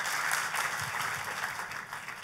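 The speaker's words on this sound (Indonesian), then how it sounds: "Tepuk tangannya yang paling meriah buat Tuhan kita." A church congregation claps together in a steady, dense wash of applause that holds at an even loudness for the whole stretch, with no voices standing out.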